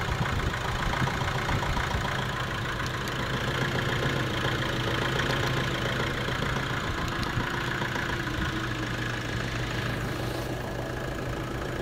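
The air-conditioning compressor of a Nissan Navara runs with the engine idling, giving a steady, loud, continuous mechanical hum and drone throughout, with no speech.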